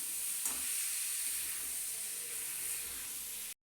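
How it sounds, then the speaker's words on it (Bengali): Cauliflower frying with onions in a pan makes a soft, continuous hiss and sizzle, fairly faint and even, with one brief stir near the start and no speech. "এবার এই পেঁয়াজের মধ্যে এই ফুলকপিটাকে ভালো করে ভেজে নিচ্ছি।"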